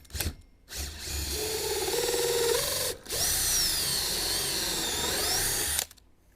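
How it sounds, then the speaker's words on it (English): A power drill whines steadily as a hole saw bites through a boat plate, with a brief pause midway before the cutting resumes, then stops. "We're going to hold it down, and we're going to drill."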